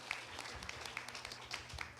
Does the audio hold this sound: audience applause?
yes